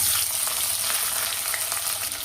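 Shallots and onions sauté in sesame oil with mustard seeds for a Chettinad fish gravy, giving a dense, loud, continuous close-up sizzle without any talking.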